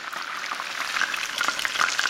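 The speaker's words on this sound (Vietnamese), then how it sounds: "Dầu nóng thì mình từ từ cho đậu vào để chiên nè" Tofu pieces frying in hot oil, a steady soft sizzle with small crackles and pops, close and fairly quiet with no voices.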